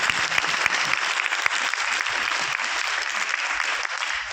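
An audience at an award ceremony in a five-star hotel in Delhi claps loudly and steadily, a dense, continuous wash of applause without pause.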